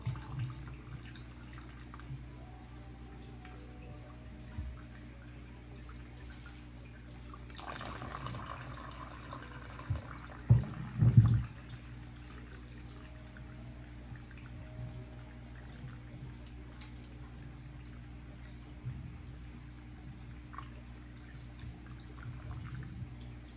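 Water trickles and drips through the overflow of a betta fish tank, a faint steady flow with a brief louder pouring burst partway through and a couple of splashy drips.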